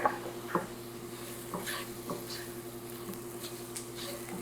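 Ground meat mixture for Salisbury steak patties, with a teaspoon of mustard added, worked together by hand or utensil: soft, wet squelching and stirring strokes at close range, with a few sharper taps early on and a steady low hum underneath.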